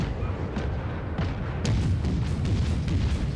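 World of Warships secondary guns on a warship firing: deep booming thuds under a constant low rumble, a few distinct heavy shots spaced irregularly, one sharper report standing out partway through.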